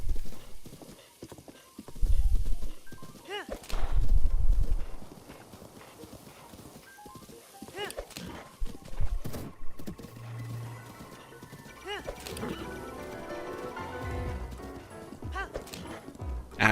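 A horse galloping in Zelda: Breath of the Wild, with rhythmic clip-clop hoofbeats and whinnies over game music, while a player talks.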